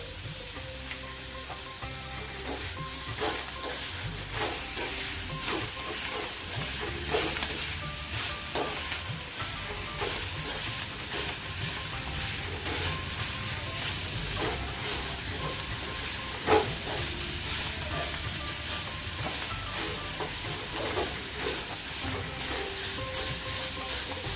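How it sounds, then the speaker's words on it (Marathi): Fenugreek leaves sauté on a high flame with a continuous loud hiss and sizzle, while a utensil knocks and scrapes through the pan in frequent short strokes, and no one speaks. "मोठ्या गॅसवरच परतून घ्यायची आहे मेथी आपल्याला"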